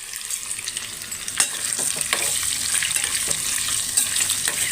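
Boiled egg pieces fry in oil with salt and turmeric, a steady close sizzle with occasional stirring scrapes and pops.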